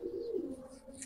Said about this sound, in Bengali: এবার ওয়ান টেলের কবুতর এই যে, দেখছেন?